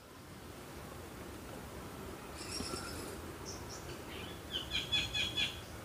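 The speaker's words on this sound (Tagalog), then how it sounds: "Oh, napakaraming ibon." Many birds call over Gunaw Lake, with bursts of high chirping and trilling rising above a steady outdoor background hiss, the calls growing stronger and more rhythmic toward the end.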